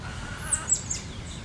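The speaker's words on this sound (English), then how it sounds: "All around us, the birds are chirping, welcoming the new day." Birds chirp in a park in the early morning beside a large old tree near water, a few short high calls rising over a steady outdoor background.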